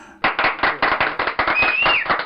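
A short burst of applause from a small group, quick loud claps in an irregular rhythm for about two seconds, close and without talk.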